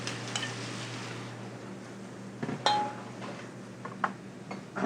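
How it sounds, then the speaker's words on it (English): Diced carrots, onions and scallions sautéing in butter give a steady close sizzle, broken by a few sharp utensil clinks and scrapes against the pan. "In the same butter, we'll throw in some diced carrots, onions,"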